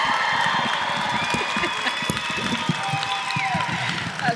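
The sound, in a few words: audience applause and cheering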